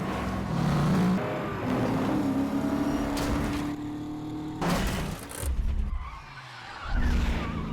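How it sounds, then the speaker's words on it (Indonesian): Cars in a film car chase, engines revving and tires skidding in several bursts, with loud passes and screeches separated by quieter stretches. "mobil yang mencurigakan mengikuti dirinya dan mengejarnya"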